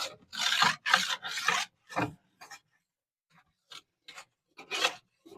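Steady rasping strokes of a file drawn along a ski's steel edge to set the bevel during a pre-season tune, loud bursts in a back-and-forth rhythm, then shorter, lighter passes after a brief pause.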